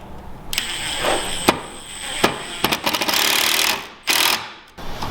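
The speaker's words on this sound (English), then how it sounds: "put my drill on there" A power drill whirs in loud bursts while assembling a plantation shutter, starting and stopping several times with sharp clicks and clatter between runs, close by.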